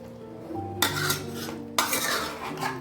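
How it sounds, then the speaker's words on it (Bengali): A utensil stirs mutton curry with fried onions in a metal pot, two bursts of scraping and clattering close up over a faint background hum. "এরপর ভালোভাবে নাড়িয়ে চালিয়ে নিতে হবে"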